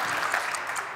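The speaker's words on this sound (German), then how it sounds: "Applaus." An audience at the Ausgezeichnete Gesundheit 2023 event claps in a short burst of applause, a dense, even patter of many hands heard in a hall without talk.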